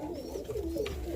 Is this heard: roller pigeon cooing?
yes